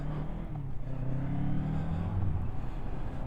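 A Kawasaki Z650RS motorcycle runs on very light throttle going downhill, its engine giving a steady low, rumbling drone close by over wind noise, with no one speaking.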